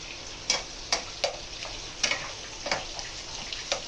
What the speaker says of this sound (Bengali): একটু ভাজা হবে, আমরা মিডিয়াম ফ্লেম বা লো ফ্লেমে করছি আপাতত।